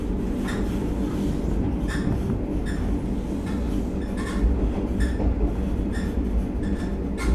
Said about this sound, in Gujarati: ચાલો હવે આપણે ગોંડલ રેલવે સ્ટેશનથી નીકળી ગયા છીએ